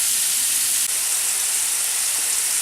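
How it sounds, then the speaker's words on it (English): French fries frying in hot oil give a steady, dense bright hiss that runs unbroken from start to finish, loud and close with no voices over it. "French fries in oil. Frying."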